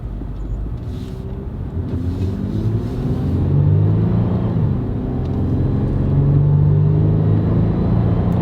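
A Toyota 4Runner engine, set to sport mode at setting 9, produces a steady low rumble from inside the cabin while driving, swelling slightly midway and holding a constant drone.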